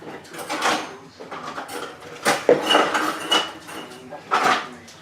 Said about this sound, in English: So we're going to turn our bowl over, let the dough fall out.